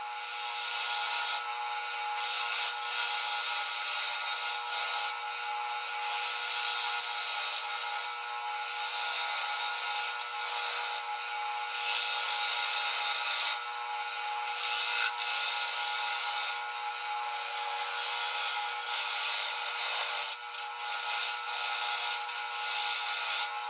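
Gouge roughing a natural edge bowl of wood spinning on a lathe, giving a steady hissing, scraping cut that swells and eases in waves, close and continuous with no talking.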